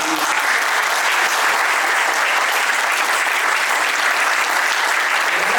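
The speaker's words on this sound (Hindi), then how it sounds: "सबसे पहले एक बार बहुत जोरदार तालियां।" Loud, dense audience applause fills the whole stretch as one steady, unbroken roar of clapping with no voices over it.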